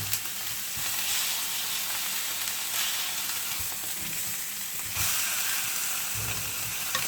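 A veal chop sears in a frying pan with a continuous loud sizzle and crackle, steady throughout, with a few brief stirring shifts and no talk.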